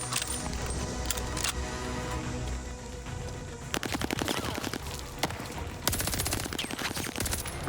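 Rapid automatic gunfire bursts from the game Call of Duty: Vanguard on PS5, dense and continuous with sharp repeated cracks, the firing growing more staccato in the later seconds.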